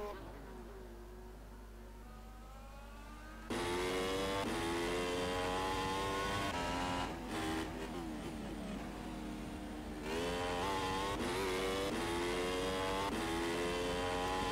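A Formula 1 race car engine in a racing video game during San Marino qualifying whines at high pitch, its revs rising through gears with brief drops at shifts, loud and continuous after a quieter start.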